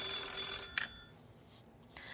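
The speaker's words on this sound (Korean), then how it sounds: "지금 이 선생님께 전화가 오는 것 같은데 전화 한번 받아보도록 하겠습니다." A telephone rings in a studio, a bright electronic trill heard near and clear, then a short second burst after a brief pause, with no talk over it.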